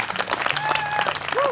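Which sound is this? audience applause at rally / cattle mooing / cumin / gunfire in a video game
audience applause at rally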